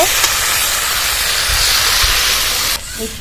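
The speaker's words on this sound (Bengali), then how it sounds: "মশলাটা ভালোভাবে কষিয়ে নিয়েছি এবার পরিমাণ মতো জল দিয়ে দেবো" Water poured onto fried masala for Bengali shukto bursts into a loud, dense steaming sizzle up close, holding steady for nearly three seconds before abruptly dropping to a quieter bubbling.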